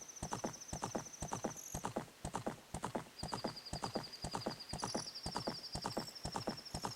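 Steady galloping hoofbeats from a horse in a late-1990s Nintendo video game keep a quick, even rhythm, joined by two thin, sustained neighing whinnies, with no talking.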